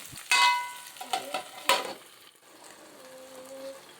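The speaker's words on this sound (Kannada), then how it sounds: "super and tasty fish fry fish fry ಆಗ್ತಾ ಇದೆ" Fish frying in a pan in a home kitchen produces bursts of sizzling and a few utensil clatters close by, easing to a softer background hiss toward the end, with no speech.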